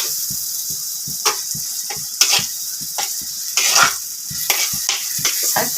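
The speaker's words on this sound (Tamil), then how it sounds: "இப்போ வெங்காயம் வதங்கிடுது. இப்போ நம்ம இந்த அரைச்ச பேஸ்ட்டை இதில் போட்டுக்கலாம்." Onion and ground masala paste sautéing in a clay pot for fish kuzhambu, with steady close spatula scrapes and clinks against the pot over a soft sizzle.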